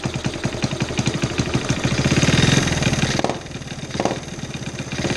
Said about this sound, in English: Maybe I can just fire it up right now. It's cold, I haven't had it running yet today.